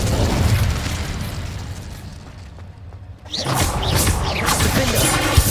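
Incendio fire spell cast in Hogwarts Legacy: a loud roaring burst of flame that settles into a quieter lull, then another fierce whooshing eruption with crackling, close and dense.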